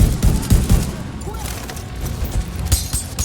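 Sniper and other gunfire from the video game The Division 2 cracks in a dense, close fusillade of repeated shots over a gritty game soundscape.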